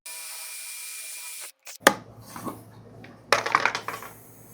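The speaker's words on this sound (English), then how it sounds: "I'll be drilling out a 5/8 inch hole." A power drill bores a 5/8 inch hole through a wooden handle: a steady whine runs, stops, then the bit bites into the wood with rough, grinding bursts that surge louder toward the end, with no voices.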